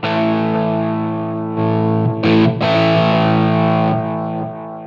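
An electric guitar played through a Line 6 Helix with power tube distortion, thick sustained distorted chords ringing loudly, with brief breaks and changes as new chords are struck, then slowly decaying.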